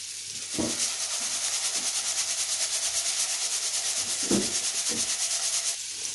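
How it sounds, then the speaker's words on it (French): Grains being stirred together with a drizzle of olive oil in a bowl, a continuous dry rubbing, scraping swish with a few louder strokes of the spoon, close and alone. "Et je vais tout mélanger. Les graines avec l'huile d'olive."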